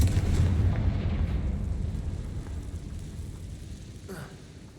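A Confringo fire spell explodes in Hogwarts Legacy as a deep, rumbling blast that booms loudly at first and slowly fades, with a brief smaller burst near the end.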